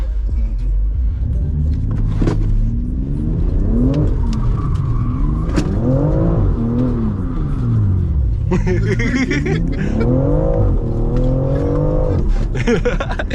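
A BMW M3 accelerates hard from a stop, its engine roaring up through the revs in repeated rising sweeps with short dips between gear changes, loud and close from inside the car.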